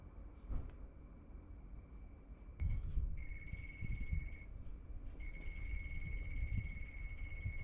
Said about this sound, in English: And here you can listen to the dulcet tones of Australian summer, cicadas